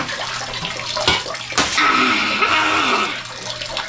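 Water is poured over the body from a scoop while bathing, a splashing rush that swells after a couple of dull knocks and spills for over a second before tapering off, close and fairly loud.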